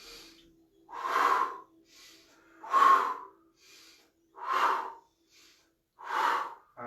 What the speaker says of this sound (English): So remember, breath work, breathe it through.